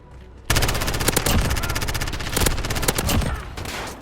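An MP7 submachine gun fires in Modern Warfare with rapid automatic bursts of sharp, loud cracks that start abruptly after a brief quiet moment and continue with short pauses between strings of shots.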